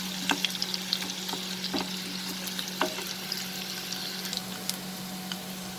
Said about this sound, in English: So let the potato get fried.